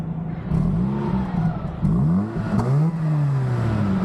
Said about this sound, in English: So Ken will give us a little rev